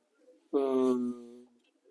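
A single pigeon coo rises and fades in about a second, close and fairly loud, in a loft setting with red-beaked pigeons.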